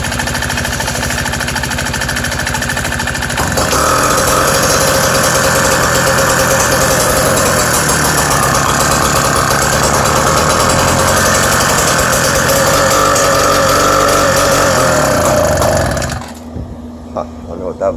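A BT-80 electric-start motorized bicycle engine, fitted with a custom exhaust pipe, runs after a cold start, a loud buzzing, knocking idle that holds steady before cutting off abruptly near the end.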